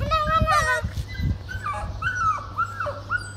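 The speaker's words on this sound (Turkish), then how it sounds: "Köpeğin sesinden korkuyorlar bak." A dog lets out whimpers and short yips along with a few barks, close and loud, while people talk over it.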